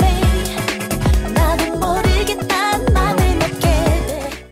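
Music excerpt from a K-pop song, a loud full mix with steady punchy beat, bass and bright melodic synth lines, no speech.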